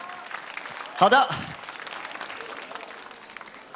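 Audience applause fills a large hall at the Singer 2018 finale, a televised Chinese singing competition, with a brief louder swell near the start and a short spoken phrase over it.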